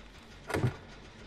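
Brief mechanical whirring burst from repairing a generator in the Dead by Daylight video game, a single loud rising motor-like sound lasting under half a second amid low background noise.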